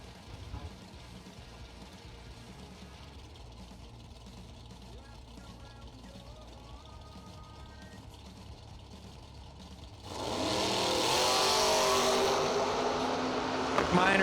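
A 1981 Camaro launching in a drag race at the Spring Fling Million. A low engine rumble sits under an announcer's commentary, then a loud, steady roar bursts in near the end and holds.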